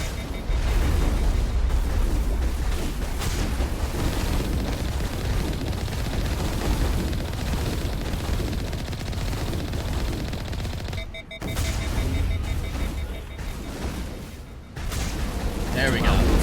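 Sustained gunfire and explosions in the Mass Effect video game as a squad shoots at a dropship, a dense, loud barrage with booms throughout and brief dips near the end, a player's voice over the noise.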